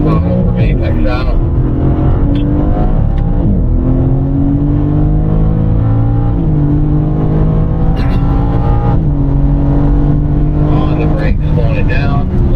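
A BMW M4 on the Desert Palm Circuit accelerates hard out of a corner, its engine note climbing steadily and loudly through the revs with a brief dip between pulls, while a person talks over it throughout.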